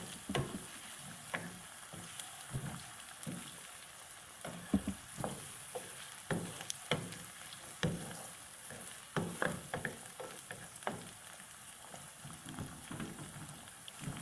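Tomatoes fry in a pan for an aloo palak dish, a steady soft sizzle broken by repeated scraping stirs at an uneven rhythm, close and fairly quiet with no voices.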